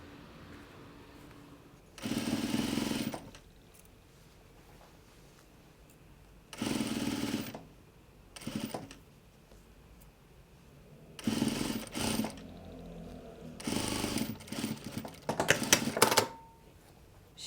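Several short bursts of sewing-machine stitching on a handmade fabric face mask, each a few seconds long, separated by quiet pauses with faint handling, close and fairly loud.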